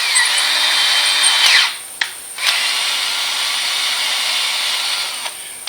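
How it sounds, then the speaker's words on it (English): Thread chasing on the head bolt holes of an Allis Chalmers WD45 tractor engine: a steady, close high-pitched whirring grind that dips briefly twice around the two-second mark, then runs on evenly. "Now I'm just going to chase the threads for all these head bolts"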